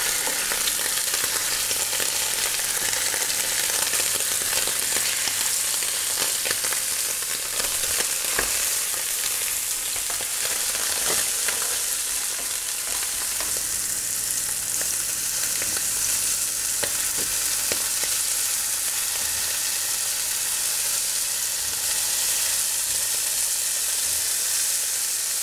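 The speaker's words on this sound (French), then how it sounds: "On remet la poêle à chauffer avec le beurre et on va faire cuire les Saint-Jacques maintenant." Scallops frying in hot butter in a pan, a steady close sizzle that runs unbroken throughout with faint crackles and occasional stirring.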